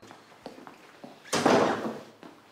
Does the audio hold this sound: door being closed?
yes